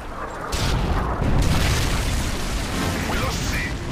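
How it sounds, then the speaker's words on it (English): Heavy booming explosion from a predator missile strike in the video game Modern Warfare 3, a loud low rumble that swells and lingers across the whole moment with game noise around it. "Friendly predator missile inbound."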